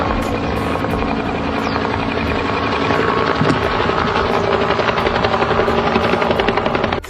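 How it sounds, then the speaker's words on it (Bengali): A helicopter's rotor and engine drone steadily and loudly throughout, with a continuous whirring roar and no voices over it. "এবার এই হেলিকপ্টারটি দেখুন"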